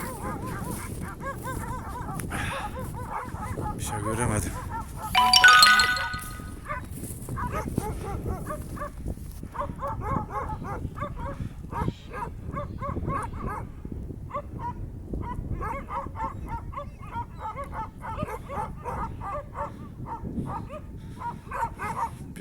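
A Kangal dog barks repeatedly in short, evenly spaced bursts at moderate distance outdoors, with a brief louder rustle partway through.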